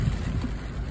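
Heavy rain drumming outside a car window near the shore, a dense, loud, continuous roar with low rumbling and no voices.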